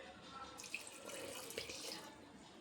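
Hot water runs and splashes into a pot of beef curry in a steady stream, a few bright drips standing out, soft and close with no talk.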